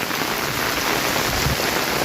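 Steady rain falls beside the Muhuri river in the evening with a light wind, a dense even hiss of drops on surfaces holding constant through the whole stretch with no voices.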